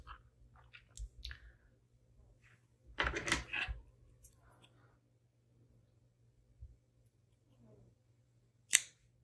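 Cotton cording snipped with scissors while finishing a stitched ornament: one dense close cut in the middle, then scattered faint clicks and a sharp snip near the end, in a quiet room.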